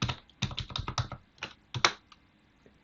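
Rapid keyboard typing in uneven bursts of clicky keystrokes, close and clear, with short pauses between flurries.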